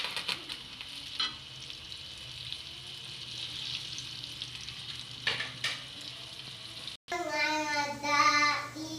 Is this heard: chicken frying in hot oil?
yes